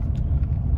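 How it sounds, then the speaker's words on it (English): Chevrolet Silverado pickup with a 6L80 transmission, freshly serviced, driving on the road; a steady low engine and road rumble fills the cabin, continuous and moderately loud with no talk. "So we're taking it for a drive."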